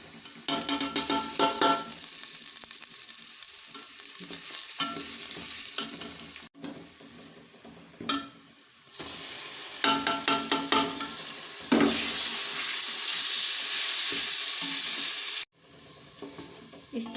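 Onions, tomato and spices fry and get stirred in a pan for lauki chana dal, a steady loud sizzle broken by repeated scraping stirs, with brief pauses and a brighter hiss surge near the end.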